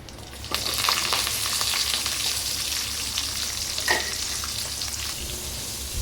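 Chopped onions fry in hot oil with a loud, steady sizzle that starts abruptly as they hit the pan, close up, with a brief stirring scrape partway through and no voices.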